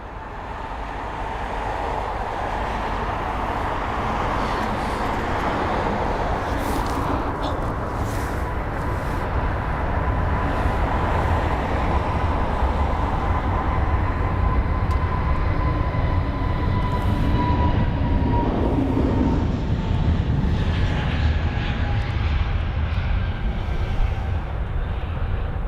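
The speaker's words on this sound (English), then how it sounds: "And I can hear the engines pulling up now." Airbus A380 jet engines at Heathrow spool up for a sunset takeoff, a loud, steady broadband roar with a rising whine that holds for the whole stretch, no voices over it.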